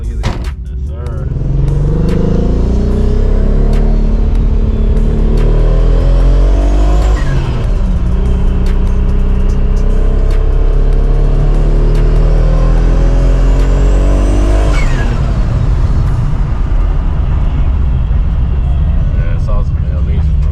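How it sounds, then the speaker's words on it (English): Nissan Skyline R33 GTR engine revving and accelerating up through the gears in two long rising pulls, loud and close, with the drone holding steady between them. "The sound of these cars is gonna sell you the."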